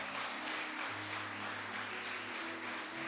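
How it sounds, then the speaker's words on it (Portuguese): A church congregation claps in praise during a worship service, a dense, continuous round of applause over a sustained organ-like musical tone. "Aplaude Ele."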